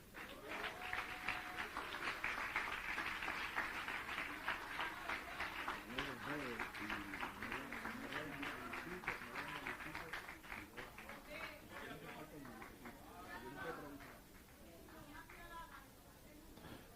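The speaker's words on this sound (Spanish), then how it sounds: "Dele un aplauso al Señor." Congregation in a church service applauding the Lord, a sustained wash of clapping with steady rhythmic hands over a voice that carries on through it, easing toward the end.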